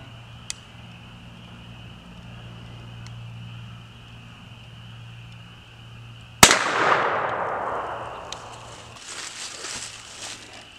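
A .410 shotgun fires once at a stack of washing machine doors, a sharp loud blast followed by a long ringing decay, after several seconds of quiet background hum.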